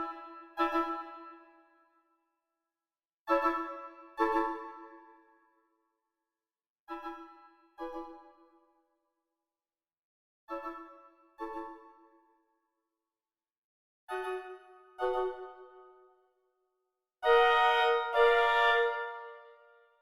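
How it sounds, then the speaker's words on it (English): Orchestral upper woodwinds, clarinets, oboes and flutes, play short sustained chords in a scherzo, soft separated stabs in a recurring rhythm with silence between, swelling to a fuller, brighter chord at the end. "we can put in some woodwind chords to add to the string chords"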